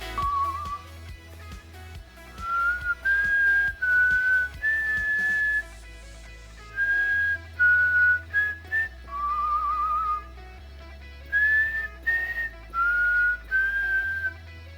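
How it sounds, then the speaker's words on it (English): A person whistles a song alone, a clear, close melody of sustained and sliding notes in phrases separated by short pauses, over a faint low background hum. "Who can guess the song that I just whistled?"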